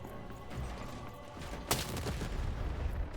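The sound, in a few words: cannon fire in video game Lost in Random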